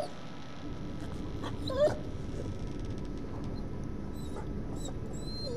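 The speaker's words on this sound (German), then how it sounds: "Da ist ein Hund drin." A dog inside a farmhouse in The Devil in Me whimpers and yips in short, high, thin cries, scattered and moderately faint over a low background rumble, with no voices.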